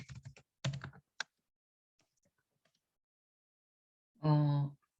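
A few quick computer keyboard keystrokes click in short bursts near the start, followed by near-silence and then a brief voice.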